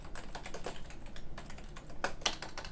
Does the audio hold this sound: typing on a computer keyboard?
yes